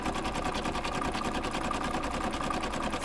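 Sewing machine running steadily in close-up, its needle stitching a decorative pattern with a fast, even mechanical chatter that stays loud and unbroken, with no talking.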